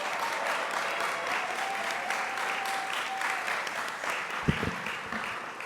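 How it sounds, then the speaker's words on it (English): Audience at a student symposium applauds steadily in a hall, a dense even clapping that carries on throughout with a few louder claps and murmurs near the end. "give them a round of applause"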